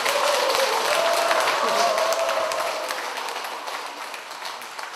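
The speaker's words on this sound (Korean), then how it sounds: "다시 한번 감사의 박수 부탁드립니다" A crowd claps after a medical lecture on skin health at a women's college event, a thick, continuous patter that holds steady, then gradually fades, with a faint sustained voice-like tone early on.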